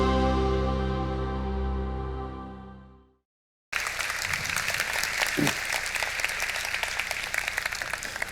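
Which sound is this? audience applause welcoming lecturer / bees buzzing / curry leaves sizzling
audience applause welcoming lecturer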